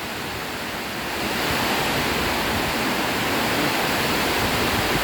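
A heavy, sudden downpour of rain pours down in a dense, continuous roar of broad hiss that swells louder after the first second and stays steady, with no voices.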